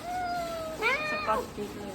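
A short-legged cat lets out a couple of close, rising-and-falling meows, with a person's voice talking in the background.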